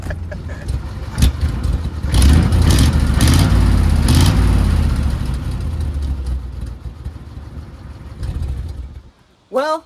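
A revived 1935 Chevy coupe's engine runs loudly and close, with a steady, rough mid-range rumble that swells, then slowly eases off. Speech is audible around it, and a brief sharp sound comes at the end.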